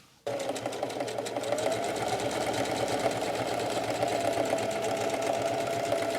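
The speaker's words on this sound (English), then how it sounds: "we're literally just going to sew it straight stitch right to the inside of this bag" A sewing machine runs a straight stitch attaching fabric to the inside of a bag for a cheap bedroll, starting abruptly and then whirring in a steady fast rhythmic chatter, close and constant.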